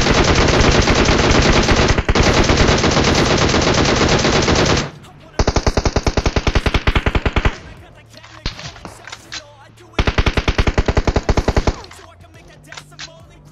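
Rapid automatic gunfire rattles in long, loud bursts while a squad is gunned down in a mobile shooter game played on an iPad mini 5, with pauses between volleys and a few scattered single shots.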